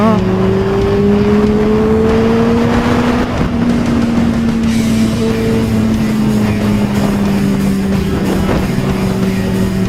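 A Honda CBR 600 motorcycle with an aftermarket exhaust drones loudly and steadily, its engine pitch rising and then easing as it rides along, with wind rush throughout.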